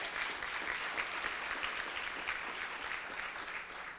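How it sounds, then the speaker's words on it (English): Steady applause from a conference audience after a tourism talk, dense and even clapping that holds at a moderate level for several seconds with no talk over it. "it does deserve a round of applause"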